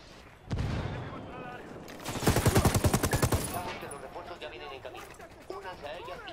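Gunfire in Ghost Recon Wildlands, a loud close burst of rapid automatic shots in a tight rhythm after an initial blast, followed by softer scattered shots under talking voices.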